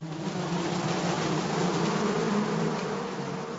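Cartoon bees buzzing as they arrive at a beehive, a dense continuous swarm drone, close and loud throughout with no talk.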